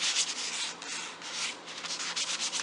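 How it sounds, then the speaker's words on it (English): A flexible 320-grit sanding sponge rubs by hand over the turned spindles of a wooden Tell City rocker, giving a steady, soft, close scratching with slight rhythmic strokes and no talk. "for the turnings, I'm using this piece of flexible 320 sanding sponge."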